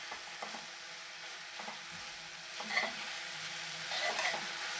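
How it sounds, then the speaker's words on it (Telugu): Tomatoes and broad beans frying in a pan, a soft continuous sizzle with occasional scraping stirs, no talk. "టమాటా చిక్కుడుకాయ బాగా ఫ్రై అయింది"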